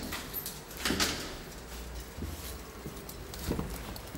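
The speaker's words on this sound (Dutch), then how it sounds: "Deurtje open." A door opening with a rattle and a couple of knocks at a horse's stall or trailer, close by amid shuffling and hoof-like thuds, with no talking.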